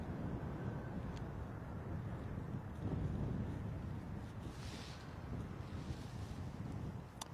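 Strong gusting wind buffets a microphone at Bristol Airport during crosswind arrivals, a constant rough low roar with no other sound breaking through.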